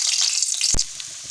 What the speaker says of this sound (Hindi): तड़का लगाने के लिए पैन में ऑयल ले लेंगे। उसमें लहसुन ऐड करेंगे।